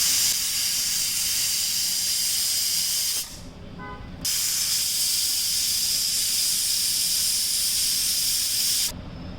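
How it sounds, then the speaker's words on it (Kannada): A pressure cooker with sambar inside vents steam in two long, loud hissing bursts, separated by a short lull carrying a faint whistle tone. "ಇವಾಗ ವಿಜಿಲ್ ಹಾಕ್ಸ್ಕೊಬೇಕು."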